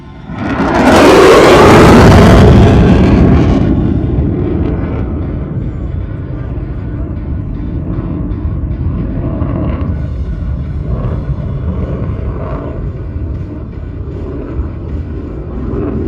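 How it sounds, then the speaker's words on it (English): An F-35 fighter jet passes at the Columbus, Ohio airshow: a loud roaring rush peaks early, then settles into a sustained rumbling drone that lingers over the crowd. "Might get one more pass for the F-35 here."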